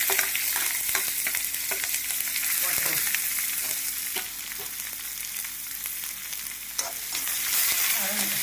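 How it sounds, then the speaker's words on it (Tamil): Sliced onions sauté in a pan with cinnamon, fennel and cloves for a plantain dumpling curry, a loud continuous sizzle broken by occasional scrapes and knocks of a spoon stirring. "வெங்காயம் வதங்கிச்சா?"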